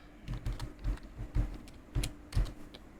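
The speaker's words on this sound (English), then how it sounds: "Now I'm going to hit enter and then type next." Typing on a computer keyboard while working in an Excel spreadsheet, a quick run of close, soft key clicks with a couple of firmer keystrokes, with no talking.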